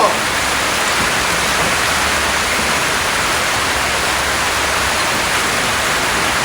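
Heavy rain pours steadily at a rural home in Laos, a dense, loud, unbroken hiss close by with no pauses.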